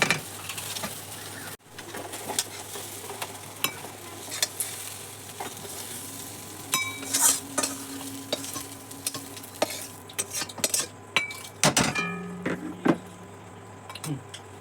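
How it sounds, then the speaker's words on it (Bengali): Okra and potatoes fry in a pan while a spatula scrapes and stirs in repeated sharp clicks over a soft, low sizzle; faint birdsong is audible in the background. "এখানে ভেন্ডি আলু ভাজা করছি"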